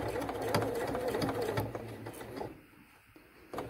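A sewing machine runs a steady burst of rapid, rhythmic stitching along a seam on a zippered pouch, close and continuous for a few seconds, then stops and leaves only quiet handling.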